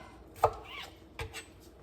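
A knife mincing peppers on a cutting board for a pepper jelly, heard as two soft, close knocks spaced under a second apart against a quiet background.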